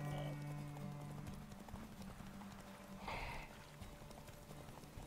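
A horse's hooves clip-clop in steady rhythm in The Witcher 3 video game, with a short whinny near the start and game sounds behind, close and fairly quiet throughout.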